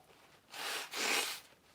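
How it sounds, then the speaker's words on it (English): A single person sneezes close by, a breathy two-part burst lasting about a second, with no talking around it. "And I'm going to sneeze."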